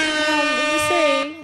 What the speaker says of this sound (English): let's throw some air horns for it's Nevets